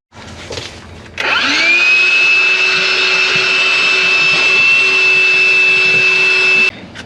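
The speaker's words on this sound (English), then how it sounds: "I love having a battery-powered vacuum on board." A battery-powered vacuum cleaner switches on aboard a boat, spinning up to a loud, steady high-pitched whine that holds for several seconds before cutting off abruptly.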